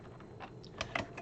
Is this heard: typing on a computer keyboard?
yes